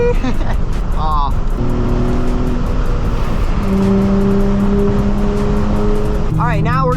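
A Nissan 350Z accelerates hard on a freeway, its engine holding a loud sustained drone that climbs in pitch through the gears, with brief bursts of talk inside the car.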